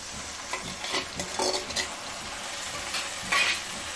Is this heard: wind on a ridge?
no